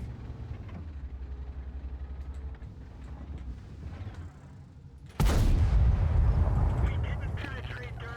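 A Liberte tank's gun fires once in a World of Tanks battle, a sudden, loud, booming blast after several seconds of low engine rumble, then decaying slowly.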